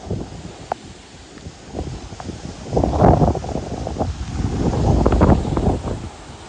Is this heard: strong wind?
yes